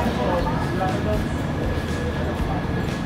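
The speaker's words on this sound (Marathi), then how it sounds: "आणि अशी ती आपली मेट्रो आहे." A metro train in China rumbles steadily along at close range, a constant mechanical drone with faint indistinct voices underneath.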